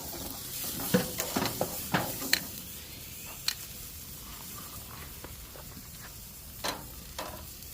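A T-bone steak on an outdoor grill gives a low, steady sizzle with scattered pops and crackles, plus a few louder clinks of grill tools early on; no talking.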